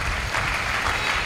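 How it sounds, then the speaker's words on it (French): Church congregation applauding, dense steady clapping that stays loud through a brief moment. "Acclamons très fort."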